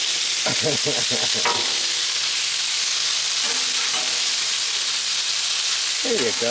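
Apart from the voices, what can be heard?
chicken pieces frying in pan for fried rice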